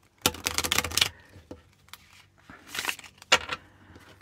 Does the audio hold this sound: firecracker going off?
no